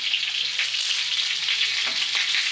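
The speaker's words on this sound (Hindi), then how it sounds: "तेल उड़ उड़ के फट रहा है" Momos frying in hot, spattering oil, a loud continuous sizzle and crackle with occasional sharper pops, close up and with no talking.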